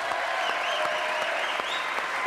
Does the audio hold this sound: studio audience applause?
yes